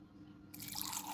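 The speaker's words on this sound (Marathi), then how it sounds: "मिक्सरच्या भांड्यात थोडंसं पाणी घालूया." Water pours into a mixer grinder jar during chutney preparation, a steady close trickle and splash that starts partway through and runs to the end without talk.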